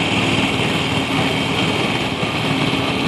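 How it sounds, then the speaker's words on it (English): A 1948 John Deere A antique tractor runs at an agricultural expo parade, its engine giving a steady, loud, continuous drone with no pauses or talk. "I think the tractor's running"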